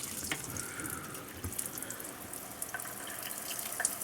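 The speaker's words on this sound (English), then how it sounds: "we're going to test the faucet in the kitchen." A camper trailer's kitchen faucet runs in a steady, fairly faint rush of water, sputtering with occasional spits and drips, heard alone without talk.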